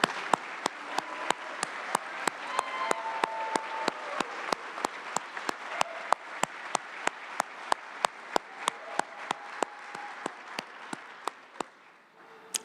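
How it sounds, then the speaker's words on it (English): A graduation audience applauds in a large room, a long sustained wash of clapping with a steady series of sharp rhythmic claps cutting through, fading near the end. "Ladies and gentlemen, please give them a round of applause."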